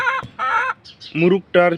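A rooster kept at a village home clucks nearby in four short, strong, separate calls spread over under two seconds.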